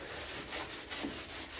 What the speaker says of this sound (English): I put some 180 grit on my sanding block here. And we're just gonna go at it and smooth this out.